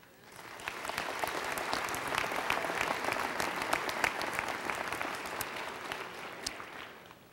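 Steady applause from a large gathering in a state legislative assembly chamber, building quickly and holding as a dense, even clatter of many hands before tapering slightly.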